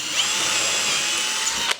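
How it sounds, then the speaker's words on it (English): A power drill bores down through a wooden push block in a workshop, a steady, loud whine held close up for nearly two seconds before a sharp click as it stops. "Now I'm drilling from the top down rather from the bottom up because I want to make sure I'm in the center"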